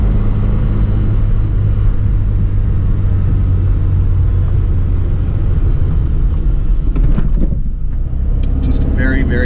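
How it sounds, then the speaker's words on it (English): Interior of a 1975 Lancia Fulvia driving along, a steady loud engine and road rumble with a brief thump and faint knocks as it rolls over a bump, with someone speaking over it. "We're gonna hit another bump here. You can hear if there's any rattles."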